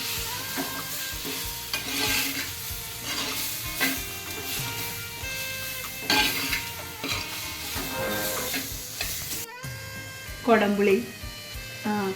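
Spoon stirring heated spice mix into a pearl-spot (karimeen) fish curry in a pan, with steady scraping and sizzling throughout, close and moderately loud, under music.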